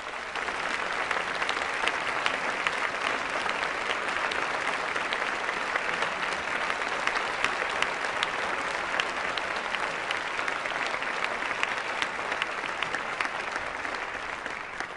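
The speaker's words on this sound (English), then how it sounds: "I'd like to give everybody a round of applause." An audience at a 2006 Apple special event applauds in a sustained, even roar of many clapping hands that holds steady for about fifteen seconds.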